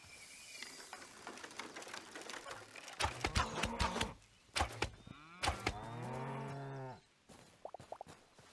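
Cows mooing in the video game Hytale, several drawn-out lowing calls with rich harmonic tone, one long moo near the end, loud and close with light game clatter between.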